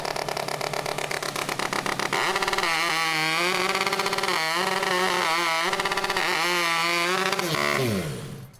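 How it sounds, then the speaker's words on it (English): A rotary-engine hot saw at a New Zealand STIHL Timbersports competition screams at high revs, then its pitch wavers and dips as the blade bites into timber, loud and close throughout before cutting off at the end. "And that's the sound of an Eichsrow rotary"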